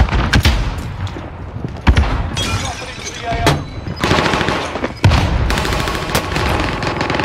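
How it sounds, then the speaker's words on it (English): Close, loud shotgun blasts and other gunfire ring out in a Call of Duty Warzone match, with sharp repeated booms and rattling shots layered over continuous game noise, and voices talk over it. "He's really using a shotgun."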